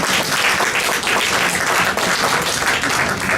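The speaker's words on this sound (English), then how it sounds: "You can clap." Dense, continuous applause from an audience at a Mount Vernon city council debate forum, a steady wash of many hands clapping close and loud throughout.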